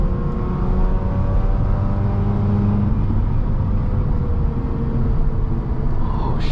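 Mazda RX8 rotary engine held in third gear on a twisty mountain road, a steady loud drone with rising harmonic lines as revs climb and fall, constant and close throughout.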